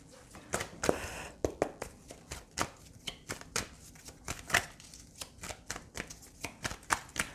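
Tarot cards being shuffled and drawn from a deck, close and quiet, with a long series of crisp riffling flicks and soft slaps of cards coming at an irregular but steady pace.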